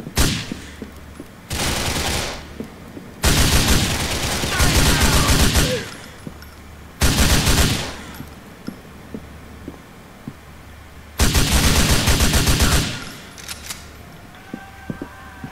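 Bursts of carbine rifle fire in Grand Theft Auto IV, several loud sustained volleys separated by short pauses, with quieter stretches of background game ambience between them.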